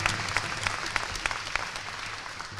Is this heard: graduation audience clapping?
yes